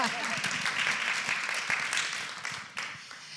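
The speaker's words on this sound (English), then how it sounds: "that was worth an applause" Applause fills the room at a panel discussion on the gender leadership gap, a steady wash of clapping from an audience that fades slightly toward the end.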